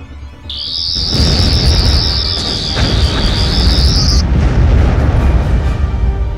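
Sustained rumbling explosion as a Dalek base is destroyed in a Doctor Who audio drama, loud and booming for several seconds under a high alarm-like whine that cuts off midway.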